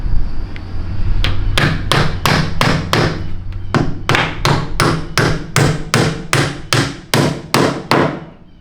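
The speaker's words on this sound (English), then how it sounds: "Couple of roofing nails just to hold it in place." Roofing nails are hammered into plywood, with about fifteen sharp, loud, close blows in a steady, quickening rhythm, alone without talk.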